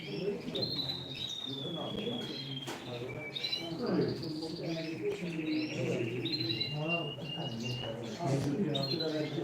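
Canaries at a canary auction in Ümraniye chirp and trill in bright repeated phrases, several birds calling over one another at close range while people talk in the background.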